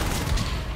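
Rapid shotgun blasts from a jetpack-equipped marine in the sci-fi shooter Natural Selection 2, loud, dense and close, merging into a continuous burst of heavy gunfire.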